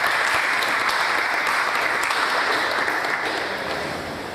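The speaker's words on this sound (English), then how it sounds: "Round of applause." A large crowd applauds loudly and steadily, the clapping dense and sustained, tapering slightly toward the end.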